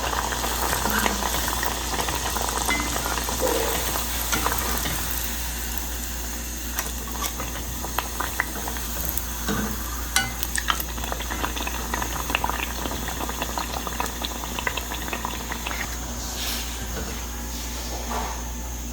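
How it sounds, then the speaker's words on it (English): Fish pie dough deep-frying in oil in a pot, a loud, dense bubbling sizzle that holds steady throughout, with small crackles and pops scattered across it. "And we put it into the pot to fry."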